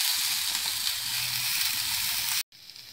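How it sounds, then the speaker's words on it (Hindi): Colourful mixed vegetables stir-fry over a high gas flame, giving a loud, steady sizzle with soft low knocks of stirring underneath, then the sound cuts off abruptly near the end. "मेरी सब्जी अब स्टर फ्राई कर रही थी मैं इसको तेज गैस पर"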